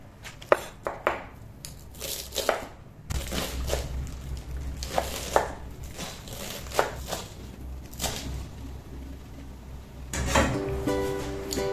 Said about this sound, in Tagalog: Uunahin natin hiwain itong ating pechay